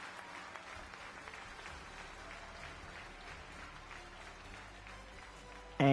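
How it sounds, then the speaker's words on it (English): Crowd applause and cheering in a football video game, a steady, moderately distant roar sustained throughout, ending with a brief louder burst. "Crowd seems pretty happy with it."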